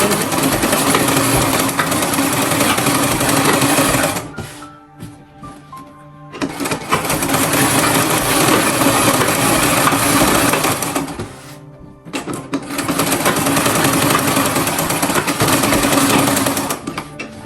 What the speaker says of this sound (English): We are sewing the second one